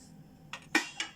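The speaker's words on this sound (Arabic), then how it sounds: "كل شويه هنديله تقليبه كده بالشكل ده اهو عشان نتأكد ان مفيش رز لازق في الحلة من تحت" Spoon scraping and knocking against a pot of rice pudding cooking in milk, three short clinks and scrapes in quick succession, close and fairly quiet with no talking.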